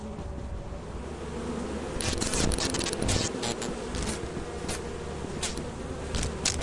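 Electric-sounding circuit bees from the video game Lethal Company give off a steady, close insect-like buzz that grows louder and harsher midway, with sharp crackling bursts layered over it and no talk.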